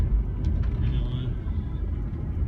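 A car drives along a bumpy road beside a railway in Western Australia, with a steady low rumble of engine and road noise throughout, close and continuous, and a little faint talk in the background.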